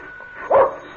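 A single short dog bark, from a dog named Buster, pops out of a hushed, hissy background, close and fairly loud, with nothing else around it.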